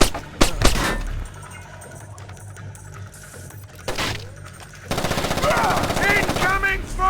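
Rapid automatic gunfire bursts from the stealth shooter Splinter Cell: Chaos Theory, sharp loud volleys early and again near the middle, then a sustained dense stretch of firing with voices shouting over the action.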